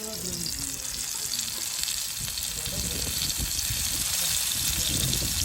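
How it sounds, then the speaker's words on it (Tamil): Freshly caught crab frying in hot oil gives off a loud, continuous, close sizzle and bubbling crackle that stays steady throughout, with no speech. "எண்ணெய் நல்லா சூடாயிருச்சு நண்டை போட்டுக்கலாம்"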